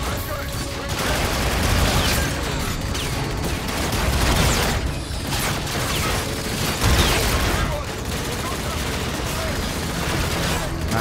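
Gunfire in Call of Duty: Infinite Warfare rattles in dense, sustained bursts with booms and mechanical clatter, loud and constant for the whole stretch.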